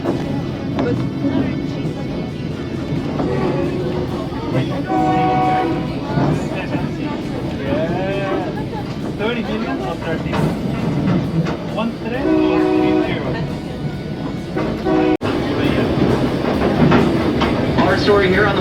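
A White Pass Railroad sightseeing train in Skagway, Alaska, rumbles steadily along the rails while a voice talks over the noise, and a horn-like tone sounds briefly a few times.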